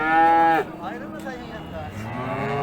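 Cow lowing at a livestock market in Kastamonu, a single loud, close moo that breaks off into indistinct chatter and market noise.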